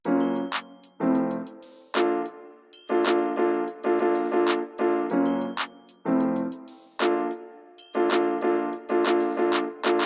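A looping trap beat plays loud and close, with crisp rapid hi-hat ticks over punchy low hits in a repeating bouncy pattern.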